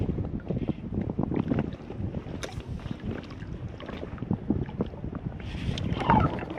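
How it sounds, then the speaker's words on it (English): Strong wind buffets the microphone continuously while kayak fishing on a lake in Austin, Texas, a loud, rough rumble with faint splashy rustles from the boat and no talking. "The wind's so strong"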